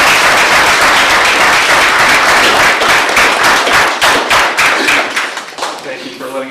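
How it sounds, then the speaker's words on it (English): Outdoor audience at a War in the Pacific Remembrance Day gathering with veterans, applauding the host with loud, dense clapping that thins out and fades toward the end. "Let's give Annette a round of applause for"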